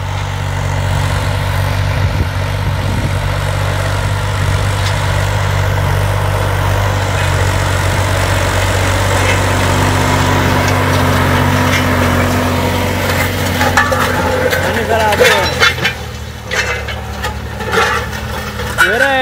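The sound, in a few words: tractor harrowing and leveling a hillside pasture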